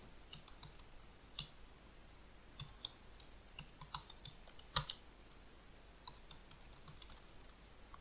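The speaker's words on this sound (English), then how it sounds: "Type the password, enter." A password is typed on a computer keyboard into a terminal: soft, quiet key clicks in an irregular patter with a few sharper taps, heard alone against a faint hiss.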